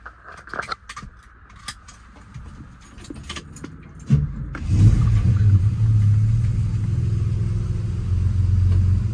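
Keys jangle briefly, then a Chrysler Valiant AP6's V8 engine fires up and settles into a loud, lumpy idle close by, with a mild cam's uneven rumble.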